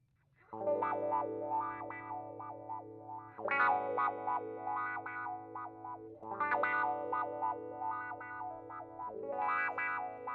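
ZVEX Super Seekers guitar effects pedal processing a played phrase, producing a stepped, sequenced filter sweep with distorted chorus-like texture over a sustained drone, repeating in roughly three-second cycles at steady loudness, no talking.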